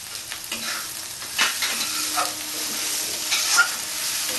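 Turmeric and red chili powder sizzle in hot oil while being stirred for a Bengali-style rohu fish kalia; a steady close frying hiss with scraping stir strokes and no voices.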